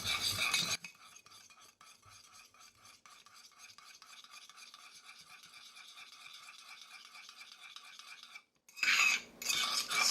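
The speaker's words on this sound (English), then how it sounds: "And we want to stir this very well." Egg yolk stirred briskly in a cup with a utensil, a steady rapid scraping and clinking for several seconds, with louder handling noise at the start and the end.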